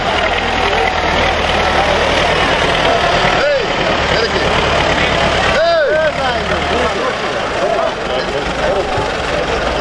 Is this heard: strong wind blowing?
no